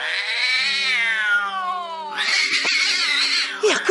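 A cat named Karma yowls and caterwauls at his own reflection in a mirror, drawn-out wavering howls rising and falling, loud and close, with a sharper, higher cry near the end.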